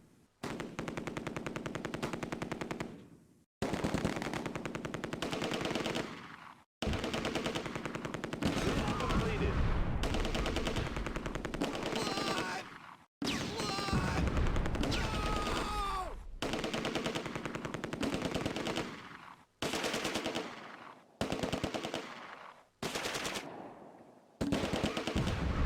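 Bren gun and Panzerschreck fire in the WWII game Close Combat A Bridge Too Far, Market Garden island battle: long sustained bursts of machine-gun fire, loud and dense, broken by brief pauses, with occasional heavier blasts and faint voice.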